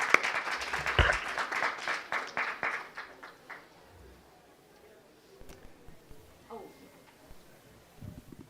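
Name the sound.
audience applause welcoming panelists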